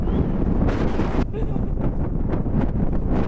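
Strong wind on a mountain summit buffets the microphone nearby with loud, continuous roaring gusts.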